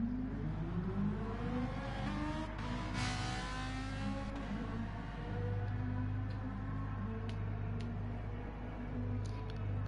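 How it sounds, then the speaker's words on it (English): A Ferrari engine drones and revs in a racing video game, a steady buzzing tone with rising and falling pitch sweeps and a brief whooshing pass, continuous and fairly quiet. "Nice sound in that Ferrari,"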